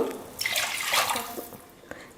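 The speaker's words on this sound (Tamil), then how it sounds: "இப்போ ஒரு கிளாஸ் வந்து தண்ணி வைக்க போகிறோம் மொத்தம் நாலு கிளாஸ் அளவுக்கு தண்ணி சேர்க்க போகிறேன்" Water poured into a cooking pot for sweet pongal, a Tamil rice and lentil dish: a steady splashing pour swells for about a second, then tapers off, close and moderately loud with no talk.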